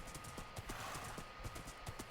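In a Minecraft Lord of the Rings mod, a ridden horse's hooves clip-clop in a steady trotting rhythm, quiet and slightly muffled under a soft game background, with no talk.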